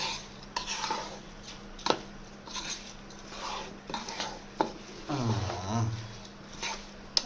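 Khichuri is stirred in a cooking pot, the spoon scraping and knocking against the metal in irregular strokes, with soft sizzling and quiet background voices around it.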